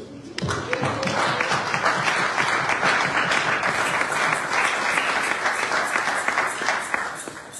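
A church audience breaks into loud, sustained applause, dense clapping from many hands that rises quickly and holds steady for several seconds, close and filling the room.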